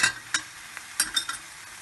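Chicken crêpe filling with carrots, crème fraîche and parsley cooks in a pan, giving a soft steady sizzle broken by a few short scraping stirs of a spoon, close and fairly quiet.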